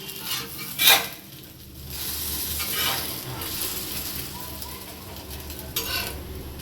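French toast sizzles in a hot pan just after being flipped, a steady frying hiss with a few clinks and scrapes of the utensil against the pan.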